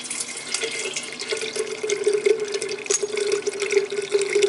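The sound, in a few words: wort being recirculated during homebrew sparging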